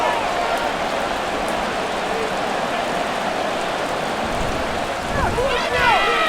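Rain falling on a football stadium during a Madden NFL 24 game between the Steelers and Ravens in Baltimore, a steady hiss under a commentator's voice.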